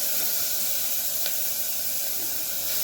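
Onions cooking down in a pan with rock salt: an even, hissing sizzle holds steady throughout, with one faint tick partway through.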